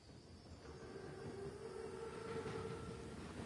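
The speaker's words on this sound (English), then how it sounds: "Train's right on time." Armored WW2 train (Panzerzug) rolling past in a wartime video game, a steady low rumble with a faint high whine, continuous and fairly close, no voices.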